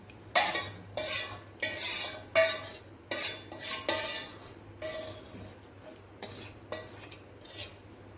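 A spoon stirs ragda mixed with pani puri water in a metal pot, making a rhythmic series of close scraping strokes with light clinks against the pot, about a dozen swipes in quick succession with no voices.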